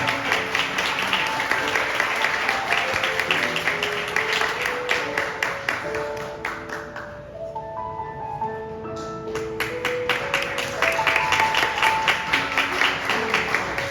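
Guests at a wedding hall ceremony applaud in a sustained round of clapping over music, the applause thinning briefly in the middle before swelling again.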